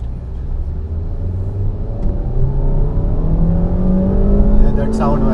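A Honda Jazz 1.2 i-VTEC engine revs in first gear, its droning tone climbing steadily in pitch and loudness from inside the car, with people talking over it.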